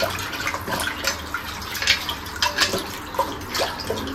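Raw chicken pieces are washed by hand in water, producing close, continuous sloshing and splashing with irregular surges and drips, with no talk over it.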